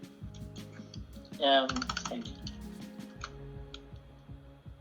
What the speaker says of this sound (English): I'll type it in the chat here